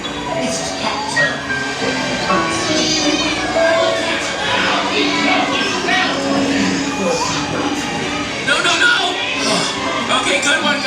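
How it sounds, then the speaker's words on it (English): A cat meows on the Secret Life of Pets ride at Universal Studios Hollywood, mixed into dense, loud ride soundtrack, rumbling motion noise and people talking. "It's just cat."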